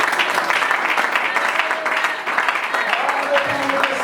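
A church congregation applauding during a worship service, a steady wash of clapping with voices and singing mixed underneath.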